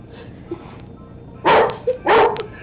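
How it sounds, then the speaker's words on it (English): Two sharp, loud dog barks close by, with a short soft yip between them over a quiet room background. "Stop barking, get it."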